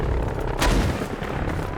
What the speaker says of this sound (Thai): จะมีระเบิดมาลงนะ